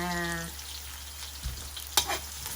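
Pancit noodles frying and being stirred in a pan, a close steady sizzle with a couple of scraping stir sounds, following a brief tonal beep at the start.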